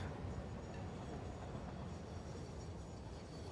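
A train rolling along rails in the Satisfactory factory-building game, a steady broadband rumble that holds at an even level throughout with no talking.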